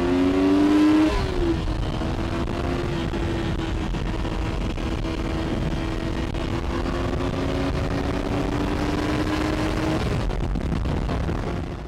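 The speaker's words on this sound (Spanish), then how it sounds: "la Honda VTR 250 Interceptor, la más reciente adición al garage de Mau Capranos" A Honda VTR250 Interceptor motorcycle engine runs steadily nearby, a brief rev at the start settling into a constant, even drone that holds for about ten seconds before fading at the end.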